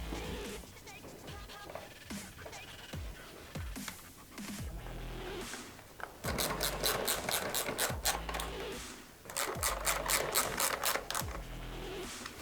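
Ratchet clicking as the two rider's seat bolts are tightened on a 2025 Yamaha R3, rapid close metallic pawl ticks in several bursts with short pauses between strokes, no talk.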